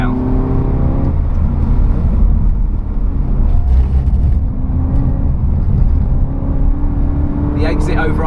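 A race car lapping the wet Nürburgring Nordschleife in fourth gear, sliding and spinning its wheels, its engine droning loud and steady throughout with a brief rising note near the end, a voice talking over it.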